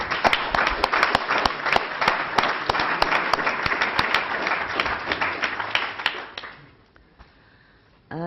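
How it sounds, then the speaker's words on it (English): Councillors at a borough full council meeting applaud the staff with a moderate round of clapping that runs for several seconds, then stops abruptly, leaving quiet room tone. "should we give them a round of applause?"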